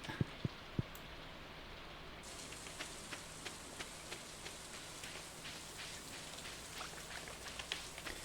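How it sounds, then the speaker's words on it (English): Steady, soft video game rain patters continuously with scattered drips and faint ticks, no voices, gentle and even throughout. "It's raining."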